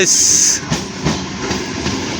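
Train pulling into a railway station platform on a cold, foggy morning near Barasat, a loud close rumble with hissing brakes, steady rolling noise and faint rhythmic clacks.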